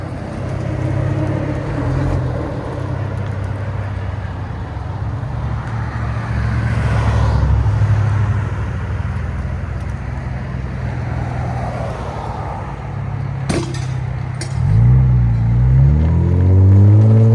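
Kia Stinger GT with a 480 hp 3.3L twin-turbo V6 and muffler delete drones loudly and steadily, with a deep exhaust tone that swells and settles, then rises again into a louder rev near the end.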